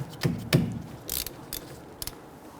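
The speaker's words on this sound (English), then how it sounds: "You can use a ratchet just to pop on in there." A ratchet works on the 14mm caliper slide pin bolts of a 2006-2012 Toyota RAV4 rear brake, giving a few sharp metallic clicks and short ratcheting bursts, close and moderately quiet.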